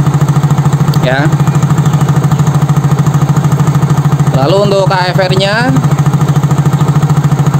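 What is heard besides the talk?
Yamaha Soul GT / Mio J motorcycle engine running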